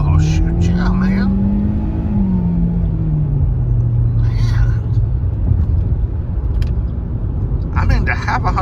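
From inside a Hyundai Elantra in sport mode with 147 horsepower, the engine rises in pitch at full throttle, then drops with a gear change into a loud steady roar. Someone talks over the engine.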